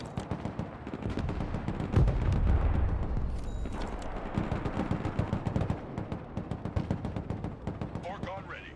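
Weapons firing in the video game Broken Arrow: a steady stream of gunfire and heavy booming shots, with a loud burst of low rumbling around the two-second mark, mixed under chatter and speech throughout.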